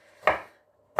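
A kitchen knife strikes twice through thick coconut cream on a cutting board, two short dull thuds about three-quarters of a second apart, close and fairly quiet, with no talking.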